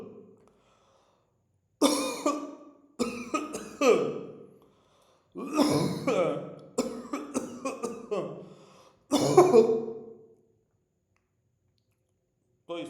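Deliberate coughs recorded for a tuberculosis screening app: several separate bursts of two or three harsh coughs each, close to the microphone, separated by silent gaps, with no talking.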